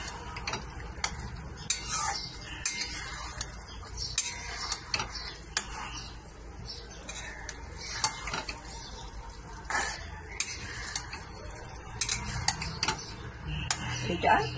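Chilli paneer stirred in a pan after a few spoons of water are added: steady, close metallic clatter and scraping of a spoon against the pan, repeated in an irregular rhythm throughout.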